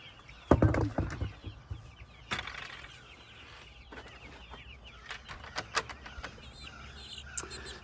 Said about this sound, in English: These are our meat birds for the year.